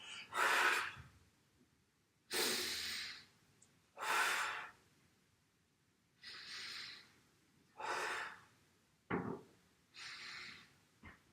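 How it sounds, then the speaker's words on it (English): Deep, forceful breaths in and out during a core exercise workout, about seven close, audible breaths at a slow regular pace with quiet pauses between them. "Breathe in on the way down, breathe out on the way up."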